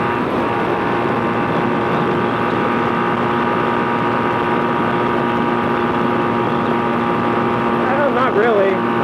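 Kawasaki KZ440 motorcycle with a single carburetor running at wide open throttle, a steady, droning engine note with a strained, buzzing tone held throughout, heard from the rider's position with someone talking briefly near the end.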